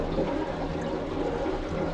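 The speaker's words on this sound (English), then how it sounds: "That's the water filling up the water tanks." Water runs steadily into the tanks of an outdoor wood boiler during a water change, a continuous close rushing and trickling hiss with no talk.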